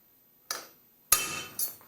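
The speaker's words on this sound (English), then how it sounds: "take a punch and a hammer and try and find the centre of that rivet" Three sharp metallic strikes of a hammer on a punch, driving out the rivet on a Land Rover clutch fork, each hit ringing and fading, close and alone.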